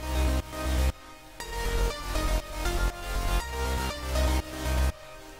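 A Nexus Dance Piano synth part at higher volume within an electronic dance drop, sounding as loud pumping chords pulsing in a steady rhythm over heavy bass, with no voices.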